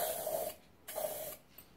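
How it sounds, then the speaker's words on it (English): Metallic spray paint hisses from a can onto a vase to fill in veining, heard as two short bursts separated by a brief pause, close and fairly quiet with no talking. "We'll fill in our veining with our metallic spray paint."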